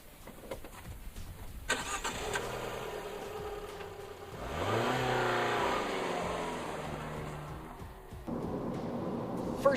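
A car starts and pulls away on a short test drive, its engine rising steadily in a continuous drone that swells midway as it accelerates, with road and cabin noise beneath and no talking.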